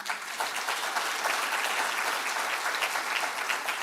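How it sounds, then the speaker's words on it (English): An audience claps for performers at an Africa Day lecture, dense, even applause from many hands sustained throughout at moderate volume. "A round of applause for them."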